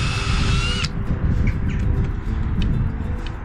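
Power drill driving a screw into a potting bench slat, a short high whine under a second that stops abruptly, followed by quieter handling and shop noise.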